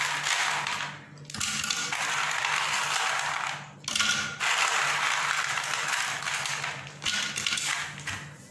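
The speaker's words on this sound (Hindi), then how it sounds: "खरबूजा मैं ब्लेंडर में डाल रही हूँ।" A loud blender whirs through melon in three sustained runs, each stopping briefly before starting again, with a grinding, churning texture.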